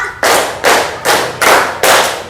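A group claps hands in unison as a counting exercise, five sharp, loud, evenly spaced claps with brief decay between them, no voices over them.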